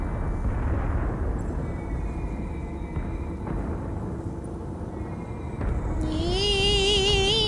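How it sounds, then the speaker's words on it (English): Explosions in the video game Star Trek: Resurgence rumble and boom continuously, heavy and close, before a warbling electronic sci-fi tone rises over them near the end. "you get to wake up to explosions."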